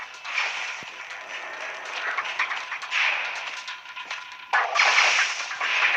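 Bomb blasts and weapon fire in the video game Nova Legacy, a run of sharp crackling bursts with one louder explosive burst near the end, steady and mid-loud with no talk.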